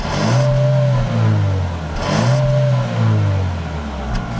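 The 1.5-liter gasoline turbo engine of a 2018 GMC Terrain with a 9-speed automatic revs up twice in strong rising pulls, each settling back before the next, loud and close.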